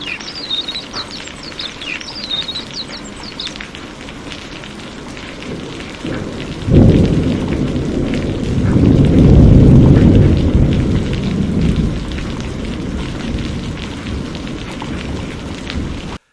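Heavy rain pours steadily through a thunderstorm, with a loud rumble of thunder rolling in partway through and swelling before easing back into the downpour; faint birdsong sounds early on.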